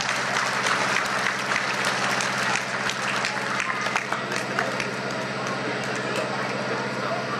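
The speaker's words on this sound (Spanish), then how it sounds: "Fuertes los aplausos, por favor" Sustained applause from a crowd at a taekwondo ceremony, honoring godparents at an event, a thick continuous patter of clapping with a low steady hum beneath it.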